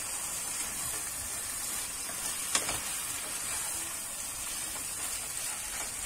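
Eggplant pieces are stirred into browned tomato paste in a pan for Turkish moussaka, producing a continuous, fairly loud hissing sizzle with a single sharp utensil clack midway and no voices.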